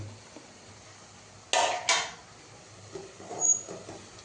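Roasted oats go into a pan and are stirred: two sharp metallic clanks of a utensil against the pan, then softer scraping and tapping in a quiet kitchen.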